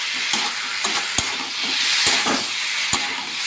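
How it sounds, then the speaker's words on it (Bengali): Vegetables for khichuri are stirred and fried in a pan, with a steady close sizzle and several sharp scraping and knocking strokes of the spoon at irregular intervals, and no talking. "তার জন্য আমি এটাকে ভালো করে নাড়িয়ে নেবো।"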